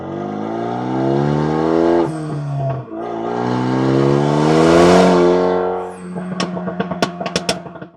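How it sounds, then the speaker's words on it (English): A Renault Megane III RS with an extra exhaust pipe and valve revs hard and loud, its engine note rising and falling twice, then breaking into a rapid series of crackling exhaust pops. "we have an additional pipe with exhaust valve, so it can be either a bit louder or a bit quieter."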